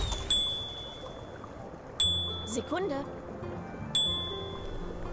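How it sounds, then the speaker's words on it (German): Three clear bell rings spaced about two seconds apart in the video game The Night of the Rabbit, each a bright metallic ding with a ringing decay, with a brief spoken word between them. "Glocke."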